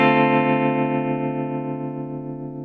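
An electric guitar through a tremolo pedal set to a triangle wave rings out in a single sustained chord that slowly decays, alone and fairly loud.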